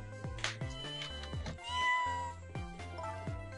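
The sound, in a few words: kitten Sissel meowing in Ghost Trick video game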